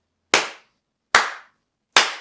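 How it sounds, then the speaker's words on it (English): Three single hand claps from one person alone on a residential street in the evening, each sharp crack trailing into a short echo off the nearby houses, evenly spaced with silence between them. "The sound of my claps echoing back across from all the other houses."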